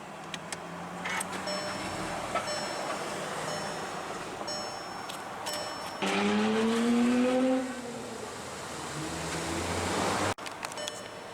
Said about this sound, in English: it does have push button ignition, so just make sure the key's in the vehicle, put your foot on the brake, and hit the button right here